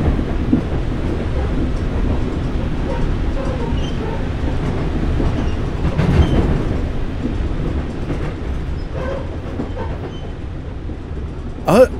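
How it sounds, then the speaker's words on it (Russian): In the horror video game Homeless, a driverless train rumbles past in the dark. A loud, continuous rolling roar with clattering wheels swells midway and holds for about twelve seconds, ending in a sharp metallic clank. "Этот поезд едет сам? Без машиниста?"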